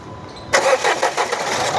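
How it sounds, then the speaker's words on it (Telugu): A Renault Duster RXZ 4WD cranks briefly and fires up, settling into a close, loud idle after a short silent moment, with no talking. "ఒకసారి ఇంజన్ కూడా స్టార్ట్ చేసి చూసుకుందాము."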